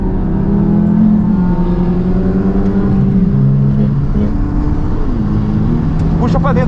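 A car's engine revs hard at full throttle on a racetrack, its tone holding steady and climbing in pitch, loud and close, with a voice repeatedly calling out over it.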